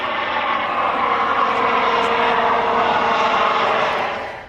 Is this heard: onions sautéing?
no